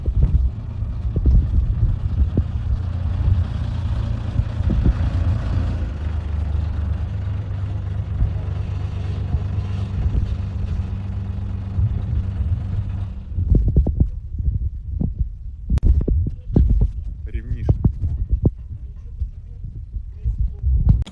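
A DTZ 5354 tractor engine runs at low revs with a deep, steady diesel rumble and a strong low throb, then turns choppier with irregular knocks and bursts. Someone speaks over it.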